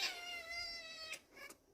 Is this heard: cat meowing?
yes